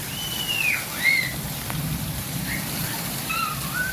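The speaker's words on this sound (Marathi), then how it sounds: "एवढा पाऊस चालू आहे वारा पाणी धडा धड वाजू राहिलं" Heavy monsoon rain pours just outside a doorway in a steady broadband wash, with faint whistling tones and a soft thump rising briefly above the downpour; no voices.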